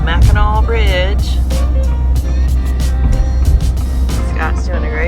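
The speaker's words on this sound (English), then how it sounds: "We are driving over the Mackinac Bridge" A car crosses the Mackinac Bridge alongside slow trucks, with a loud, steady low road rumble and tyre noise throughout and people talking over it.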